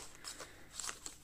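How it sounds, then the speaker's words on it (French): Scissors snipping open the foil of a Pokémon booster pack, a few quiet crisp cuts and rustles close by, faint overall. "on va s'ouvrir tout ça avec mes super ciseaux"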